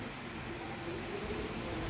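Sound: rain

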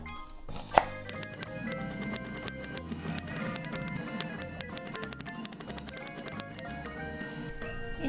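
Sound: knife dicing onion

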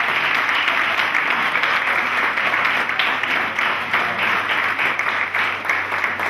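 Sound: applause

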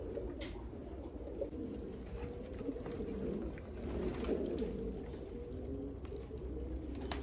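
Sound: pigeons cooing

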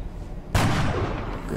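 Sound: gunfire shot in XCOM Long War video game

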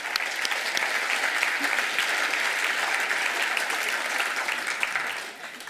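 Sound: applause

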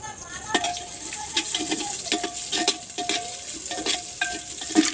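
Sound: whole spices frying in a pot

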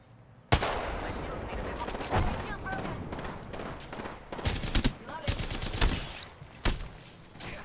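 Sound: enemy gunfire in Apex Legends video game

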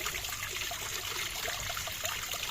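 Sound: rain falling at a mini zoo

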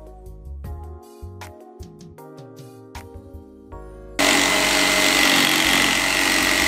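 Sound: jigsaw cutting lightweight veneered plywood

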